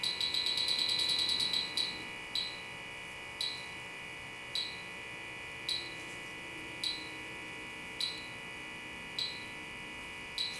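A Bacharach H10Pro refrigerant leak detector testing for R410a sounds a high-pitched electronic alarm. Rapid chirps give way to single sharp beeps repeating about once a second over a steady background hum.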